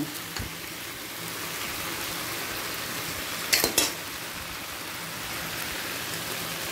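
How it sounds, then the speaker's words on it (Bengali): Chow noodles with egg bhujia are tossed in a hot oiled pan with two forks, giving a steady rain-like sizzle and a short burst of metallic clatter midway. "দুটো কাঁটা চামচের সাহায্যে আমি ক্রমাগত ওপর নিচ করে দিয়ে গেছি"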